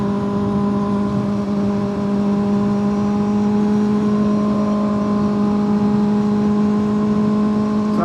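A Kawasaki ZX6R motorcycle engine holding a steady drone with sustained tones while the bike is ridden at dusk, loud and continuous with no talk.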